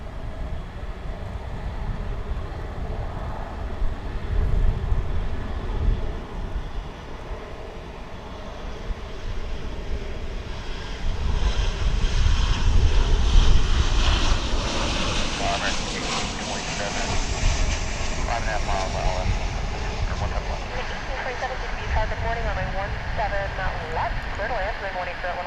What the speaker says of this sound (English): I believe this is going to be American Airlines Flight 1365 off to El Paso in West Texas.